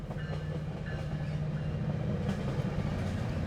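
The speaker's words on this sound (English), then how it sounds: "Train passing by." A train rumbles past close by, a loud continuous low roar with faint rhythmic rattling that stays steady and unbroken throughout.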